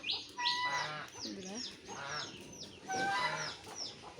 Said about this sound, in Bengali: কিছু রাধা হাঁস আছে আমাদের, দেখেন